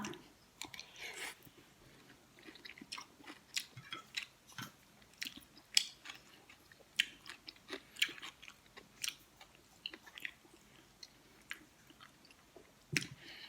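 Someone chews papaya salad loaded with shellfish, shrimp and squid, close to the mic, with moist crunchy bites repeating irregularly throughout and no talking.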